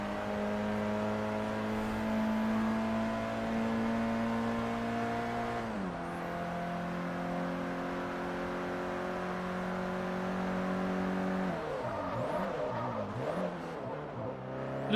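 A Mini Cooper engine in Forza Motorsport 3 drones and revs steadily through the gears, pitch climbing and then dropping at each shift, with tyre scrubbing and a wavering whine near the end, loud and continuous.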